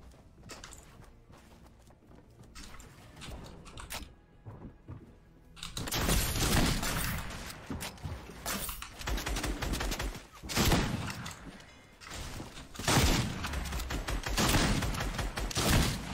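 Gunfire in the Fortnite video game: quiet scattered shots at first, then loud, rapid bursts of automatic fire in repeated waves over the rest of the clip.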